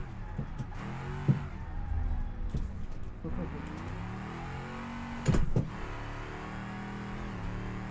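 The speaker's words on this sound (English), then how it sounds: "Just letting the car slide" Car drifting and sliding along a road, engine droning and revving with sweeping tones under continuous talk from a nearby voice, with a few sharp louder bursts.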